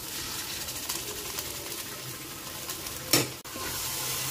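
Spiced masala sizzles steadily in oil in a wok for a prawn curry, then ground paste is dropped in with a brief louder hiss and clatter before the frying settles back to a constant sizzle.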